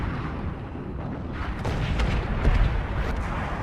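A heavy artillery shell strikes a tank in the World of Tanks video game, a deep rumbling boom and crackling burst that swells near the middle and stays loud over a constant low battle rumble.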